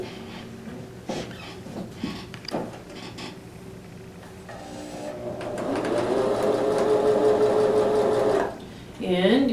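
Sewing machine stitching down the center block of a checkerboard sampler quilt, a steady whirring run that builds midway and stops near the end, with speech and handling noises before it.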